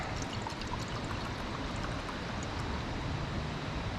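Water is poured from a container into a pot on a camping stove, making a steady, faint, unbroken splashing stream that lasts the whole four seconds.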